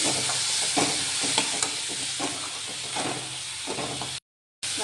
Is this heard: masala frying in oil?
yes